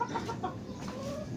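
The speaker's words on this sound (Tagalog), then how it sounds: "Lumabas na yung manok." A chicken clucks in a few short, soft calls close by, with low background rustle and no talking.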